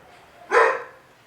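A neighbour's dog lets out a single loud bark, sharp and close, standing alone against a quiet background.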